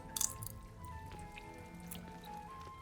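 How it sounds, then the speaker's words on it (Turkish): Rain falls in the video game Hogwarts Legacy, with soft scattered drips and patters heard quietly over a steady hum of game ambience and music tones. "Yağmur da yağıyor."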